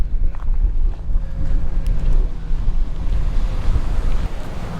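Strong wind gusting at an ocean stone jetty near a lifeguard tower in San Pedro, loud low rumbling buffeting against the microphone with faint surf underneath, continuous throughout.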